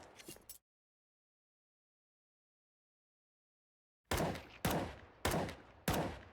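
Gunshots in a Valorant match on the Mirage map as a player practises headshots: a short burst, then silence, then four sharp, loud single shots at steady intervals, heard alone without talk.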